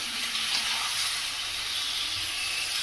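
Chicken being sautéed in a handi for biryani, giving a steady, even hiss and sizzle that runs unbroken throughout at moderate level with no voices.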